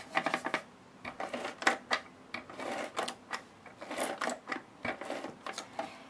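Adhesive tape gun (ATG) run along paper to stick it to a card base, giving a series of short clicking, rattling mechanical bursts at close range with brief pauses, no talking.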